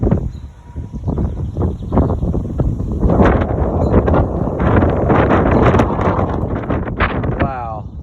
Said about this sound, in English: there comes the wind